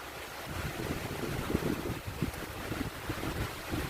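Steady wind rushes and buffets the microphone outdoors, low rumbling gusts with no voices.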